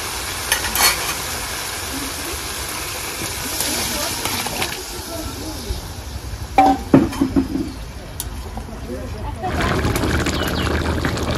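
Liquid is poured into a hot pan of spiced shol fish curry with aubergine and potato, sizzling and hissing steadily with stirring clatter near 7 s, while someone talks over the cooking.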